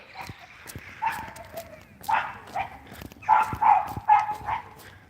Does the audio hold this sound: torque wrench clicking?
no